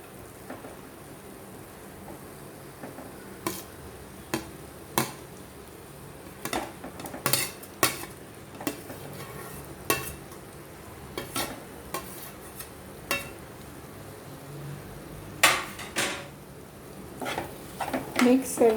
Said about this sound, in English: Let us add all the vegetables.